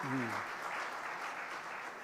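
An audience applauds at a public conversation event, a steady wash of clapping heard at moderate distance while a voice briefly speaks at the start.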